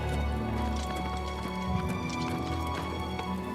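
Horse hooves clip-clop steadily along a road in the 2025 Oblivion Remastered game, a continuous trotting rhythm under background music and ambience, with no talk.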